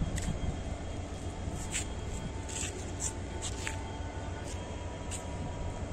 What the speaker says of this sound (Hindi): ये हमारी ट्रेन खड़ी है जोधपुर से बाड़मेर की